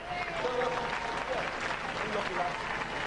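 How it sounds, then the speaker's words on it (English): A studio audience at a robot combat show applauds two competitors, a continuous wash of clapping heard at moderate distance, with faint voices mixed into the crowd noise. "Give them a round of applause, ladies and gentlemen."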